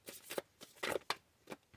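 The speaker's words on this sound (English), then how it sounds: "Do one more shuffle here." A deck of oracle cards is shuffled by hand, producing several quick, soft papery riffles and flutters in short bursts, faint and close, with no talking.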